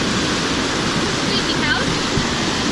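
Mae Sa waterfall pours in a dense, constant rush of white water, loud and close, with a voice faintly audible beneath the roar.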